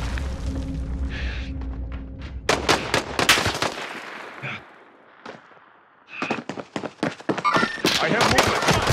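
Gunfire in the video game Call of Duty: Modern Warfare: loud rapid bursts of shots crackle in clusters, pause briefly, then resume in dense volleys, with a voice speaking amid the combat.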